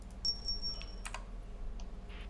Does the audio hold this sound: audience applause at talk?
no